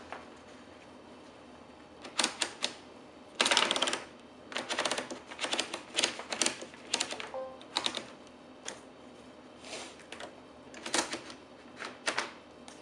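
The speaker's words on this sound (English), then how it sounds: "It's a real nice condition Remington typewriter." A Remington 30 typewriter in good working order types in bursts of close, crisp key strikes with irregular rhythm and short pauses between, with no talking over it.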